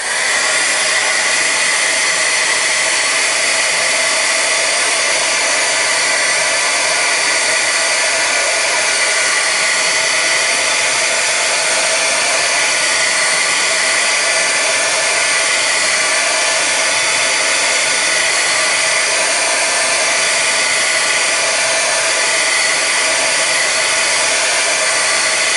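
A hair dryer blowing to dry wet watercolour paint, a loud, constant whooshing roar that runs unbroken throughout, close and with no talking.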